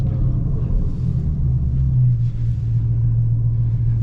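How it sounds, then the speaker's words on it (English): A Hellcat Charger with the 924 hp Demon package drones loudly and steadily at close range, its deep engine note changing briefly once partway through as it shifts gear. "Listen to the shifting, man."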